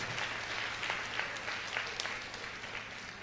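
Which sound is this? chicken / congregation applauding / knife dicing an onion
congregation applauding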